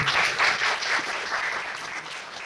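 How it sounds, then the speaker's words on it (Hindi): Audience applauding in a hall for a seated guest at a health event, a steady dense wash of clapping throughout the short stretch with no voices over it. "इनके लिए एक बार तालियां बजा दें"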